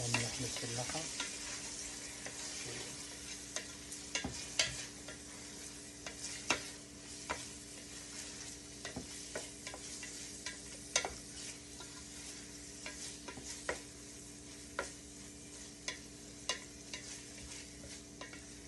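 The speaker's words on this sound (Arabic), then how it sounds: "نحمس اللحيمات ويا البصلات" Small meat pieces fry with onions for tashreeb, a steady low sizzle punctuated by frequent sharp spoon-on-pot stirring clicks throughout, with a faint steady hum underneath.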